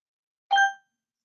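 A single clear electronic bell ding from reading timer software, a bright ringing tone that sounds alone in silence and fades within about a third of a second.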